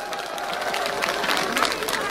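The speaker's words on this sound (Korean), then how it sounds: "우리 김수홍 의원님께도 뜨거운 박수를 보내주시기 바랍니다" A crowd at a Democratic Party campaign rally in Jeonju applauds a lawmaker being introduced, a steady wash of clapping and cheering from a large gathering, somewhat distant and even throughout.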